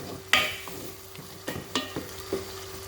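Bitterleaf and crayfish stirred in a frying pan for a Cameroonian fried bitterleaf dish: several separate scrapes and clinks of a spoon against the pan over a low, steady sizzle, close and moderately loud, with no talking.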